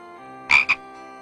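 Two short croaks from a frog in the Discworld adventure game, clear and close over a quiet background, the second briefer than the first.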